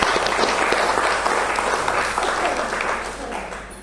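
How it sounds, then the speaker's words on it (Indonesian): Applause rises from an audience at a meeting, a steady wash of many hands clapping that holds briefly and then gradually softens. "Tepuk tangan untuk beliau."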